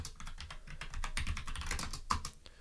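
Keys clatter steadily on a computer keyboard as someone types notes about database design, a close run of quick, uneven clicks with no talking over it.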